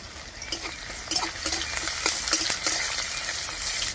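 Panch phoron, chopped onion, bay leaves and a green chili frying in hot oil in a village kitchen, a steady close sizzle with stirring scrapes and faint utensil clinks throughout.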